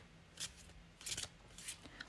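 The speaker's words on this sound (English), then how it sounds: "we'll be shuffling this one again" A deck of tarot cards is shuffled in quiet, crisp riffling bursts, three or four brief papery rustles close by.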